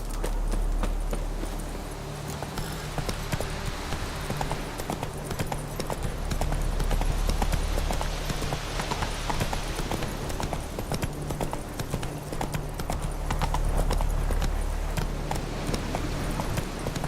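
Roach the horse gallops in The Witcher 3, hooves clip-clopping in a rapid, continuous rhythm under game ambience, steady and fairly close throughout.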